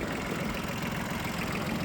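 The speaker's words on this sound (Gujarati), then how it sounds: "હાલો હવે આપણું ટ્રેક્ટર લઈને નીકળ્યા" A tractor engine idles steadily up close before pulling away, a continuous low rumble with a rough, throbbing texture and no talk over it.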